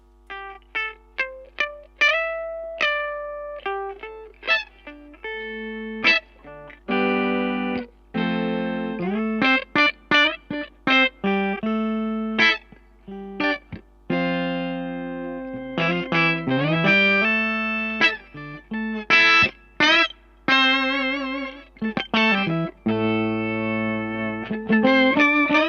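Electric guitar played through an MXR Poly Blue Octave pedal set one octave up, with the dry signal off: a loud run of clean, sustained notes and chords with a bright, organ-like doubled tone, played alone without talking.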